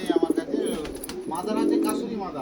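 A Ferozpuri pigeon coos close by in a rolling, throaty series of pulses, with someone talking over it at a pigeon sale.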